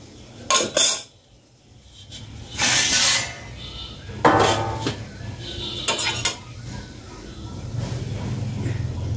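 A metal plate lid comes off a pot of grapes being boiled in a perforated strainer, with several bright clanks and scrapes of metal against metal between quieter gaps.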